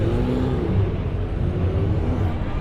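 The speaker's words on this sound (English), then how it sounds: "Another Porsche GT3 headed out on the track." A Porsche GT3 race car pulls out of a busy pit lane at a 24-hour race in Dubai, its engine a loud, steady low rumble throughout.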